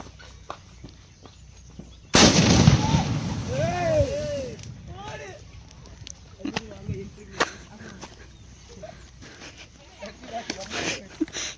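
A Diwali firecracker goes off in water with a sudden loud burst and splashing, followed by bubbling and churning water while people talk and shout nearby.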